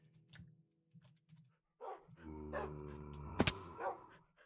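Dogs indoors pant in short rhythmic breaths, then break into a cluster of sharp barks and whiny yips, close by and loud against a quiet room.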